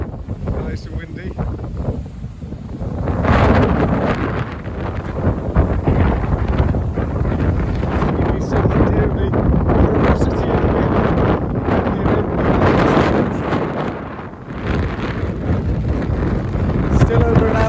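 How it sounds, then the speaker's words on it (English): Storm Francis wind on the Isle of Wight coast roars and batters the microphone without letup, a loud, dense rush that swells and dips over the whole stretch. "nice and windy."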